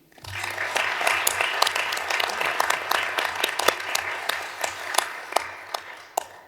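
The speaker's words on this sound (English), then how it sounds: "I would like to give a warm round of applause to Christina" A conference audience gives a warm round of applause, a burst of dense clapping that starts abruptly, holds steady, then thins into scattered individual claps toward the end, fairly close and without talk.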